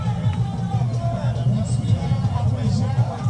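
A huge crowd murmurs in a dense, steady hubbub at the Akwasidae celebration honouring Otumfuo Osei Tutu II, the babble of many voices filling the space evenly with no single voice standing out.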